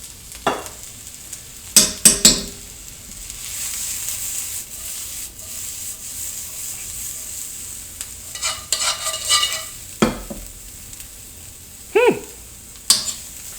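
Diced red onion fries in a pan under a soft, constant sizzle, broken by sharp clacks and scrapes of a utensil stirring now and then.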